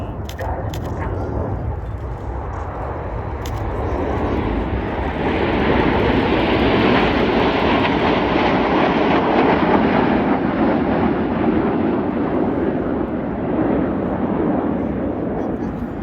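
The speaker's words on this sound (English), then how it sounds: "In that particular manoeuvre, the aircraft are flying with their air brakes out." Red Arrows BAE Hawk jets flying a display at RIAT with air brakes out, a loud jet roar that swells and holds as the formation passes, then slowly fades, with a commentator's voice under the engine noise.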